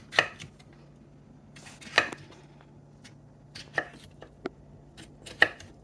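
Knife chops vegetables into chunks for a shrimp and crab chowder, four or five crisp thuds against a cutting board, spaced unevenly, close and otherwise quiet without talk.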